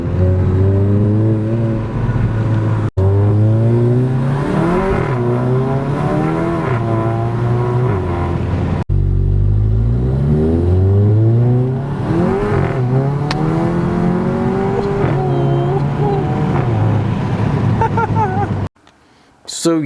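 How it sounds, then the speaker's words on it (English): Volkswagen Mk7 GTI fitted with an APR carbon fiber intake, revving and pulling hard with a rising engine note and turbo spool, loud and close throughout, broken by brief gear-change dips. "I can even hear the spool a little bit better just by rolling"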